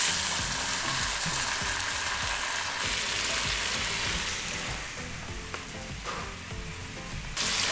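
Scallops sear hard in a hot pan, blackening on one side, giving a loud, steady sizzle with soft scraping and stirring that eases slightly toward the end before a brief final surge.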